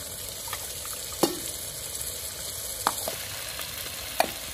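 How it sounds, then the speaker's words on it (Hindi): A steady sizzle of green spice paste frying in a pan, with a few sharp scrapes of a spoon stirring at intervals. "और अभी हरे मसालों को भी भूनते हैं"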